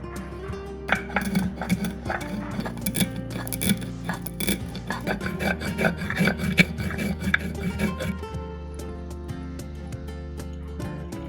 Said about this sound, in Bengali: আমি সবার আগে সাহা মরিচটা গুঁড়ো করে নেব